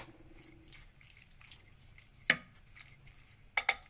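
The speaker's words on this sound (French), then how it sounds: "Et on va mélanger." Spices for homemade kebab being mixed in a bowl: quiet stirring and scraping with a few sharp utensil clinks against the side, no talking.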